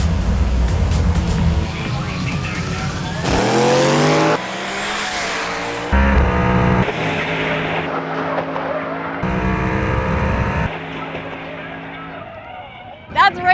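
A turbocharged 2005 Ford Mustang GT makes a drag racing qualifying run, its engine roaring and rising through abrupt gear changes, with tire squeal and background music and voices over the strip.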